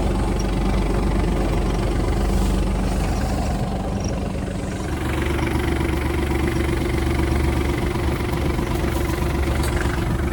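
Kubota KT-24 mini tractor engine running steadily nearby at a constant idle-like drone, a continuous low mechanical hum with slight rattle throughout, no talk.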